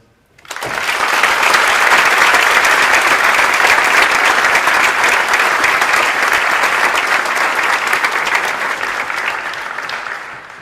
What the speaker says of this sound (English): So please, an enormous applause for the organizing team